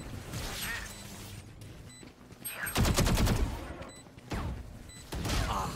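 Automatic gunfire in the Valorant video game, several bursts of rapid rattling shots separated by short pauses, loud and close, with a dense sustained burst at the center.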